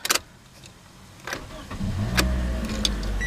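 The four-cylinder engine of a 2014 Toyota Corolla LE cranks briefly, catches with a rising roar, and settles into a steady low idle after a few clicks and clunks inside the car.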